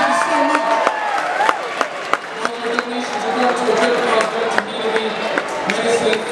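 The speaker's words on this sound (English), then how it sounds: "Please give a big round of applause for Mr." Audience at a school talent show applauds and cheers, a dense wash of clapping with scattered whoops and crowd noise, steady and fairly loud throughout.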